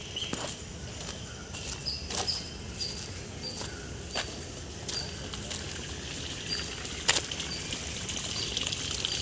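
Water runs steadily through a channel in Lalbagh Botanical Garden, a continuous close trickle with a few faint bird chirps above it.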